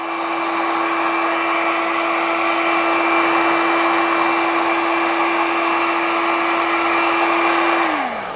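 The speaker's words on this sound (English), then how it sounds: "before I stick them on, I give them a blast of the heat gun" A heat gun blows on adhesive-backed rear vertical light strips for a 2012-2017 Honda Goldwing GL1800, a loud steady whirring hum with a constant motor tone that winds down as it switches off at the end.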